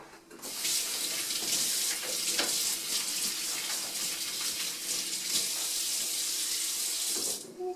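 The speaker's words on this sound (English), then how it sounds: "I'm going to wash my hands" Water gushes steadily from a kitchen tap as hands are washed beneath it, a close, even rush of splashing that starts and stops abruptly.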